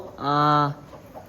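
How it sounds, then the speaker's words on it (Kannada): A benki koli fowl gives a single short, loud, tonal call close by, lasting about half a second against a quiet background. "ಅದು ಬಾತುಕೋಳಿ ಅಲ್ಲ ಬೆಂಕಿ ಕೋಳಿ"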